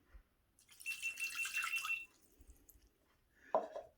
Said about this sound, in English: 120 milliliters of water is also going in